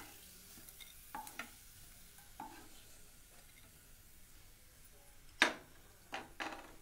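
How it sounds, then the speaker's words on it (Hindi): Food frying in hot oil on a stovetop, a soft steady sizzle under a few sharp clinks of a utensil against the pan, with one louder scrape near the end. "ये भी फ्राई हो चुके हैं, अब हम इन्हें भी निकाल लेंगे।"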